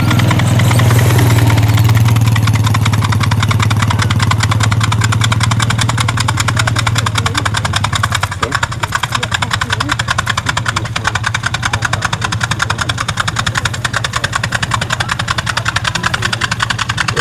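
A vintage aircraft engine runs loudly at an evening airshow, a rough, pulsing piston drone that throbs steadily close by, its low tone shifting as the throttle opens partway through.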